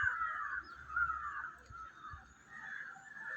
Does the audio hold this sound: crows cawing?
yes